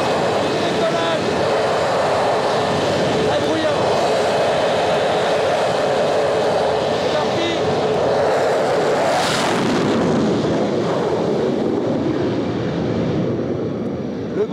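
A jet aircraft on the deck of the carrier Charles de Gaulle runs up to full throttle on the catapult before launch, a loud, continuous roaring blast of engine noise that swells briefly partway through.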